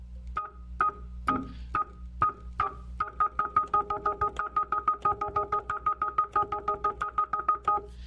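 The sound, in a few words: Hammond organ with normal percussion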